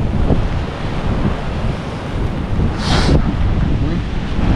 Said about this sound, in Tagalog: meron pa dito ng malakas ang hangin